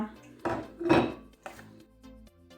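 Soft clattering thuds as diced chicken fillet tumbles into a bowl, a few separate knocks and rattles close by, then quiet.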